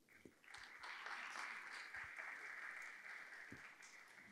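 An audience applauds a panel at the close of a MEDays 2024 conference discussion on investing in water, with steady sustained clapping that holds for several seconds at moderate loudness with no speech over it.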